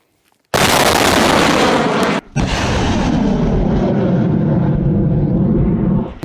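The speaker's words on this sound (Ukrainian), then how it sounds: "Зараз буде залп." Artillery launcher firing a salvo at near-maximum range in a combat zone: a sudden loud close blast that roars on continuously with rumbling power, briefly broken once, then a long sustained booming rush fading slowly over six seconds.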